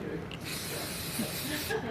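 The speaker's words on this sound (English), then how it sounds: "So what I'm gonna do instead is use a bit of spray olive oil." Olive oil spritzed from a spray bottle during a cooking demonstration, a steady broadband hiss lasting most of the moment, close and fairly loud with faint background murmur.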